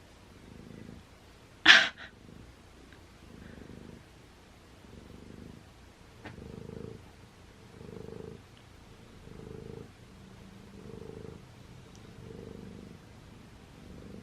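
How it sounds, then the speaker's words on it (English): Slow, rhythmic purring pulses repeat steadily, close and soft, with one sharp brief noise near the beginning. "This is some wickedly loud purrs"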